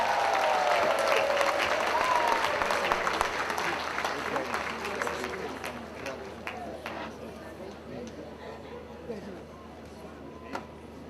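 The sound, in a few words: audience applause at an awards gala dinner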